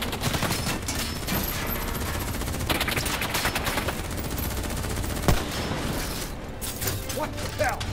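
Gunfire in the shooter game Call of Duty: Black Ops 3: sustained bursts of automatic fire with sharp single shots, dense and loud throughout, with voices talking underneath and a mechanical clatter.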